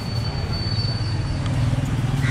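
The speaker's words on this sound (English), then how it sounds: "There he is parking the vehicle." A motorcycle rumbles steadily at close range while being parked on a Pondicherry street, with its low engine drone continuous throughout.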